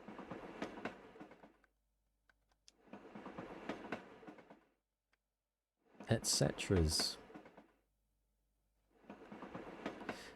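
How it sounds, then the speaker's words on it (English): A game train in Little Witch in the Woods rolls past in repeated bursts of clattering rail noise, separated by short silences, with one louder, sharper burst in the middle. "listen to that train."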